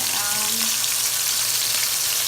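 Chicken wings fry in hot oil with a loud, steady sizzle and crackle filling the whole stretch, close by, with a faint voice briefly underneath at the start.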